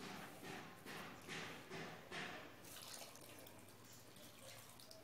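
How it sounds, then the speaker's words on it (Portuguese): Water pours into a pan for making coconut candy, a series of short splashing pours close by followed by a steadier trickle, with no one talking. "eu vou estar colocando só mais meia xícara dessa de água"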